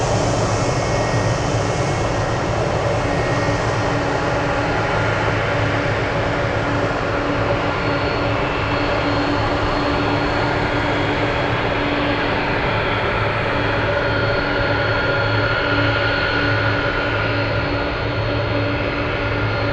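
A Boeing 747 Dreamlifter at Anchorage airport gives off a steady, loud jet engine roar that holds evenly throughout.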